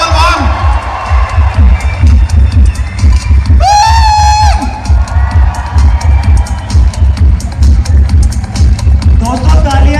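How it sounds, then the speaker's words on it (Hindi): A loud, dense burst of audience applause and cheering at a recognition ceremony, with whoops and crowd babble rising over steady clapping throughout. "जोरदार तालियां हैं आवाज से"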